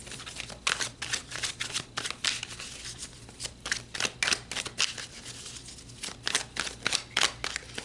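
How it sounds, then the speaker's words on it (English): Tarot cards being shuffled by hand, crisp rapid riffling bursts repeating in an uneven rhythm with short pauses between, close and fairly loud, no talking. "So let's pull some more cards."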